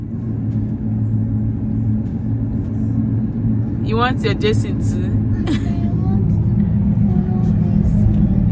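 A school bus engine rumbles in a steady, low drone close by, with an adult and young children talking over it.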